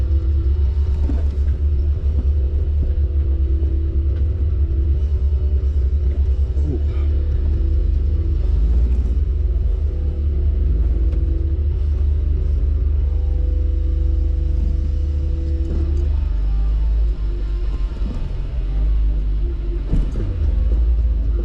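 A Jeep Rubicon crawls over off-road trail obstacles, its engine rumbling low and continuous close by, with occasional revving as it climbs.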